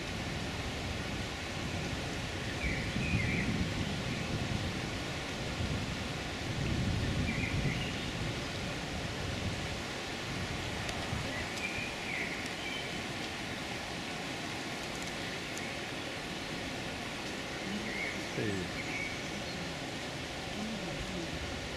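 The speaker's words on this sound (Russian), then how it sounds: "Поливает воду и ветер сейчас дует" Wind blowing beside the Olkhovka river in Kislovodsk, a broad steady rush with gusty swells mixed with flowing water, faint and continuous.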